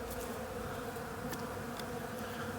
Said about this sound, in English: move the bees out of the way